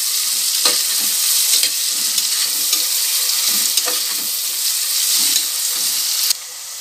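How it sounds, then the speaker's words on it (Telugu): Onions and green chilies fry with a bright, constant sizzle near at hand, punctuated by regular spoon scrapes and stirring taps, with no voices over it. "ఇంకా కొంచెం ఫ్రై కావాలి మనకి. చూసారా, ఇలా ఫ్రై కావాలి ఉల్లిపాయలు."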